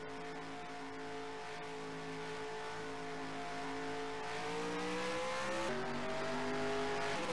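Race cars starting a race, engines droning in a steady multi-toned hum that rises in pitch as they accelerate away, moderately loud and heard with no talking.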